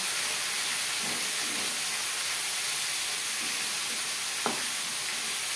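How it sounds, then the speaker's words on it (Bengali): Fish heads fry in a hot wok over a gas flame for a Bengali muri ghonto, giving a steady, close sizzle and hiss throughout, with a few soft stirring knocks and one sharp clink near the end. "প্রত্যেক ব্যাচের মাথা একইভাবে ভেজে নেব।"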